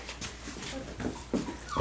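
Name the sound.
Mini Whoodle puppy waking up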